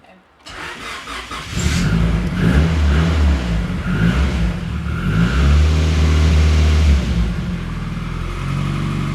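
A Honda Civic show car engine cranks, catches and starts, then idles roughly with repeated revs rising and falling, loud and close in a garage.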